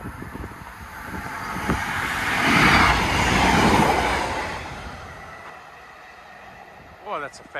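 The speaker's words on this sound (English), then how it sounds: "Looks like another train's coming by." Fast train rushing past on a rail line near Crowland, a broad whooshing roar that swells to a peak around the middle then fades, with wind buffeting the microphone and a brief voice near the end.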